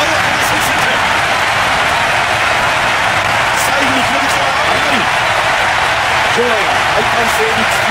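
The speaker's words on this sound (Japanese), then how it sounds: "大歓声に包まれます。" A stadium crowd roars after a goal in the 2005 football video game Winning Eleven, a loud, continuous wash of cheering with faint voices and whistles poking through.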